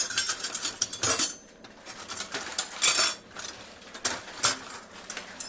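A metal spoon clinking and scraping against pots while a vegetable tempering is prepared for a red cowpea dish, with irregular bursts of sharp close clatter separated by short quieter gaps, no talking.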